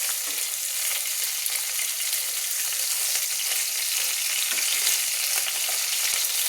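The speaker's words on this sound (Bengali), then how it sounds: "আমার বাটা মাছগুলো কিন্তু অপর পিঠটাও ভাজা হয়ে গেছে" Bata fish fry in hot oil in a pan, giving a steady, dense sizzle and crackle that continues without pause throughout, close and fairly loud, with no talking.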